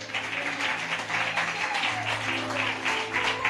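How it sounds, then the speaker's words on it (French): Church congregation applauding steadily through the whole stretch, a dense wash of hand claps with a sustained tone or hum running underneath. "on peut applaudir pour elle"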